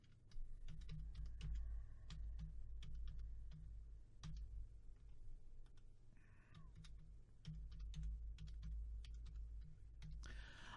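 Keys clatter on a computer keyboard as a password is typed in quiet, irregular bursts of close, light clicks with short pauses between them.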